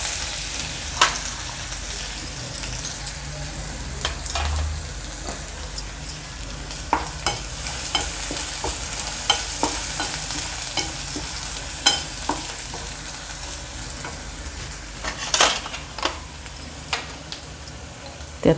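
A paste of ginger, garlic, coriander and a little coconut is stirred into a pan for a village-style okra amti, giving a steady sizzle broken by sharp scraping clicks of the spoon against the pan.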